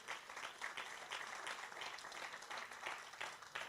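A church congregation claps steadily, a dense continuous wash of applause with uneven swells, sounding from a moderate distance.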